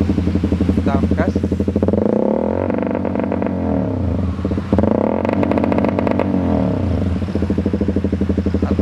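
A Honda CBR K45 motorcycle revs hard against a 6000 RPM launch limiter, its engine cutting rapidly and stuttering in loud, sustained bursts close to the microphone.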